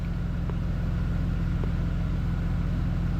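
A 2004 Mercedes C230 W203 1.8 sits running in drive with its sensors disconnected, a low steady engine drone close by, even and unbroken, with a couple of faint clicks and no speech.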